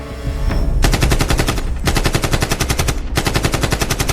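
Recreated rapid automatic gunfire in a movie theater massacre, loud close bursts of fast repeated shots separated by short gaps, with no talking.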